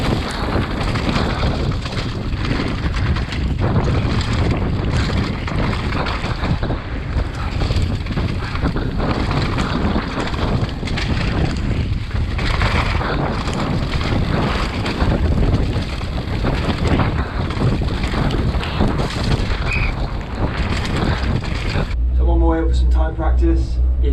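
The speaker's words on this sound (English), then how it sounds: "Really windy, really rainy." Gusting wind and rain on an exposed mountain bike trail at Fort William, a steady broadband roar buffeting the microphone almost throughout, then dropping away abruptly near the end.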